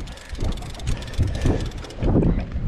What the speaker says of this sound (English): it's been windy out here, folks